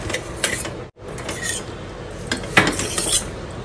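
A spoon stirs cooked vegetables inside a metal pressure cooker, giving repeated clinking scrapes against the pot in a loose rhythm, close and moderately loud, with a brief pause partway through.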